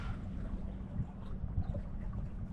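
A MacGregor 26M sailboat on a broad reach in steady wind, with a continuous low rumble of wind buffeting and water rushing past the hull, no talking.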